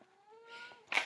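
A cat gives a thin, drawn-out meow at low volume, ending in a brief louder rustle or breathy burst, heard nearby in an otherwise quiet room.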